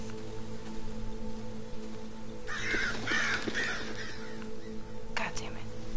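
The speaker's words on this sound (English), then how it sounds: "Stupid birds." Crows caw in a dark forest in the game Darkwood, several harsh calls clustered mid-clip and another brief one near the end, set over a steady droning ambient hum.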